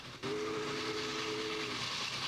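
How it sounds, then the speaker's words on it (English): A steam locomotive's whistle gives one sustained, steady blast of about a second and a half over a constant background hiss of steam. "the same pressure made the engine's whistle blow"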